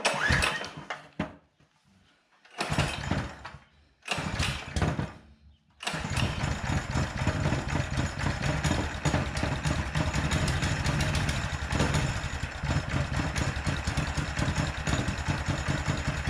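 A track sled's small petrol engine is pull-started, with a few sputtering pull attempts and short bursts before it catches and settles into a steady, loud, close idle with no talk.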